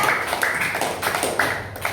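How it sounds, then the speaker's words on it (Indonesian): A small group claps in quick, uneven light taps for Sarpandi, a brief and moderately loud patter of applause in an indoor setting. "Lihat tepuk tangan dulu untuk Sarpandi"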